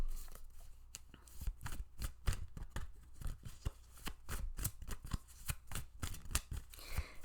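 Tarot cards are shuffled continuously at close range, a steady stream of riffling slaps and flutters with no one speaking.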